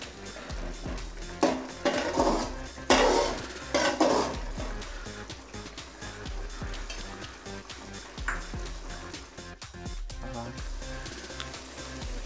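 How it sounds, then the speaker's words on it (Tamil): A spoon stirs dried fish (karuvadu) into thokku in a pan, making scattered scraping and clinking bursts against the metal, fairly quiet and close, with a few louder stretches and a low background hum. "கருவாடை ஆட் பண்ணி மிக்ஸ் பண்ணி விட்டுக்குங்க."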